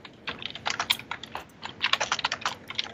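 Rapid, uneven clicking of keys on a computer keyboard comes in quick bursts with short pauses, crisp and fairly close.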